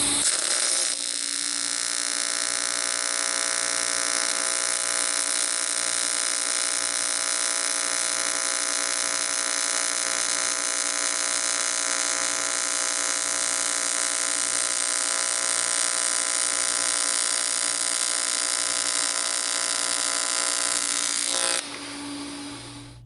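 An AC TIG welder set to 60 hertz with 50/50 balance, giving a loud, steady buzzing hum that holds unbroken for about twenty seconds and then cuts off, close and with no talking.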